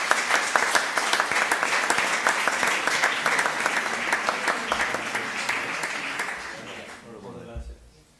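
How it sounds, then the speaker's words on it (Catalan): Audience applause at a youth recognition ceremony in Pla de l'Estany, Catalonia, as a candidate comes forward, with sharp individual claps in dense continuous clapping that tapers off near the end, giving way to faint voices. "Fort aplaudiment."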